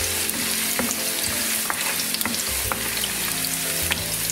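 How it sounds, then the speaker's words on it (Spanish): Carrots and other vegetables frying in a pan for a rabbit and white bean stew, a strong continuous sizzle with a low hum and occasional clicks of stirring, close and steady, no voices. "pongo la zanahoria puesto que no quiero triturar. Se sofríe así un poco"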